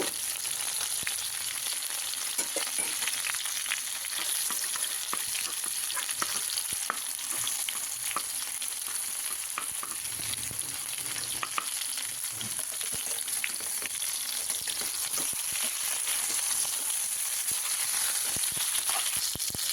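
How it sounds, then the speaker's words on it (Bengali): Mixed winter vegetables fry lightly in a pan with grated ginger while being stirred, giving a steady close sizzle with scraping and clinking from the stirring spoon throughout, and no voices. "আদার সঙ্গে সবজিগুলোকে বেশ ভালো করে মিশিয়ে একটু হালকা ফ্রাই করে নেব"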